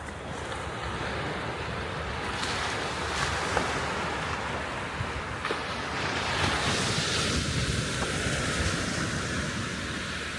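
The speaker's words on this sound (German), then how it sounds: "So, und das hier sind die Dünen. An einem wunderschönen" Waves and wind on a beach beside sand dunes, a continuous broad roar of surf with gusty wind buffeting the microphone throughout, no voices.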